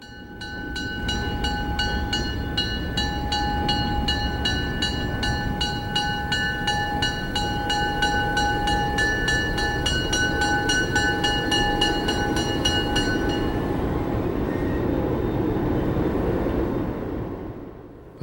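The Chaleur passenger train arrives at Matapedia station, a loud, continuous rumble of rolling wagons with a sustained horn-like tone over it that fades out near the end, with no voices.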